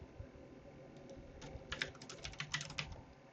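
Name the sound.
typing a password on a computer keyboard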